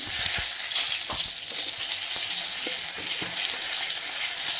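Whole cardamom, cinnamon, clove and bay leaves sizzle steadily in hot oil, a bright continuous frying hiss with a few soft clicks and taps of a utensil, close and alone with no voices.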